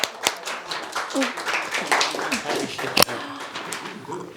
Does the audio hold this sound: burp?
no